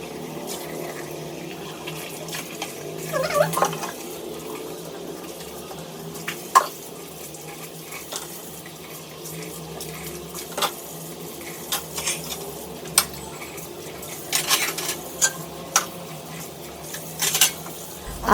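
Dishes being washed at a kitchen sink during a morning cleaning routine, with running water and scattered clinks of utensils and pots, fairly close and steady, with no talk.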